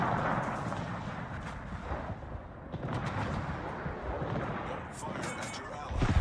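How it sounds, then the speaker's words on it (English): A torpedo striking a ship in the naval battle game World of Warships: rumbling explosions and crackling impacts, rather faint and mixed with ongoing battle noise, while a voice talks over parts of it. "the guy eats one of my torpedoes"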